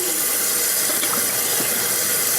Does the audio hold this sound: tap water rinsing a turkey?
yes